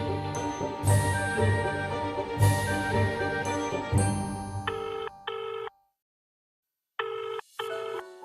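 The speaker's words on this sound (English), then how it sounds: "And it all begins with a phone call." A telephone rings with repeated bright electronic trills in a steady pattern, then shorter beeping bursts separated by a full second of silence, clear and close with no talking.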